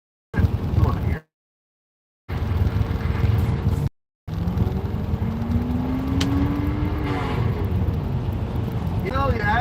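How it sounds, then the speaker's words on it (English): Wind roars through the open windows of a moving car without air conditioning, a loud broad rumble with a couple of abrupt cutouts early, then continuous buffeting under a rising engine tone. "you had the wind noise from the windows being down and the lack of AC"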